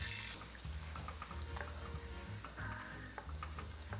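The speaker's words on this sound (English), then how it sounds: "Pour in the sauce and bring it to a simmer." Sauce with dried chili peppers, scallions and aromatics bubbles and sizzles faintly in a wok, a soft steady simmer with small crackles and occasional stirring.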